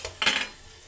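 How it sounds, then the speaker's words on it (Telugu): Taro root pieces tip into a hot pan with frying curry leaves, a brief metallic clatter and sizzle burst that fades quickly into quiet background. "కరివేపాకు వేగాక చామగడ్డలు వేసుకోవాలి."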